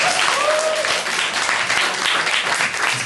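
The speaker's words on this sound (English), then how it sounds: "Can we all give him a round of applause," Audience applause at a speech event, a loud, dense wash of clapping that runs steadily from start to finish with a brief whistle-like tone early on.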